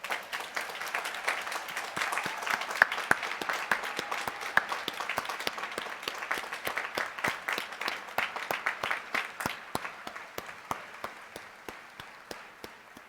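Applause rings out for a graduating law school class at a commencement ceremony, a long run of crowd clapping that starts dense and thins toward the end as individual claps become distinct, heard at a distance.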